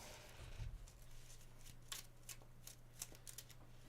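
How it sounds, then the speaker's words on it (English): Marvel Champions encounter deck being shuffled: a run of sharp, crisp card riffles and snaps repeating irregularly over a steady low hum, close and fairly quiet, with no talk. "Shuffle the encounter deck."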